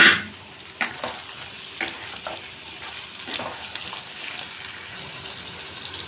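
Tomatoes sizzle and hiss in hot oil with already-fried onions and potatoes in a home kitchen, with scraping stirs at intervals. A sharp clatter comes at the start, then a steady, moderately close frying sound follows.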